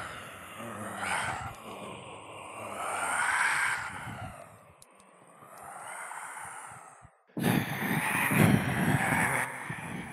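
Edited zombie sound effects made for a game: a run of low groans, sighs and moaning wails, rising and falling in loudness, then a sudden louder, harsher burst of snarling near the end.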